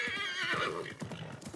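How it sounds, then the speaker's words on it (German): A horse in Assassin's Creed Mirage gives a loud, close whinny with clip-clopping hooves just after, all in one brief burst. "Ach, Pferdi."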